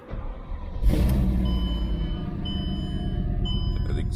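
A 600hp Mercedes CSL55 AMG with a non-stock exhaust revs up, a low engine rumble jumping sharply louder about a second in and then holding a steady, deep drone close by, with a faint high tone over it.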